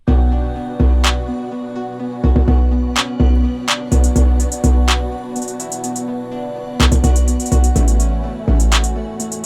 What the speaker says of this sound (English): I'm gonna bring in the hi-hats and I'm gonna take out the main lead as well.